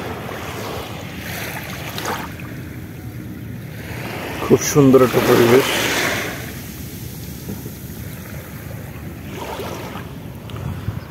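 Wind and waves at Patenga sea beach in Chittagong, a constant blustery rush buffeting the microphone, with a person speaking briefly in the middle.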